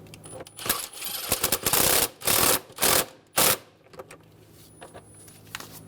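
A power tool buzzes in several short, loud bursts, tightening bolts on a 2.7L four-cylinder Toyota Tacoma engine during an ignition coil boot job, with lighter clicks and rattles of metal in between.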